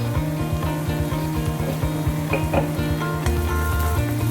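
Sliced onions with a pinch of salt sauté in a pan, giving a steady, close frying hiss with a few faint stirring touches, all over a continuous low mechanical hum.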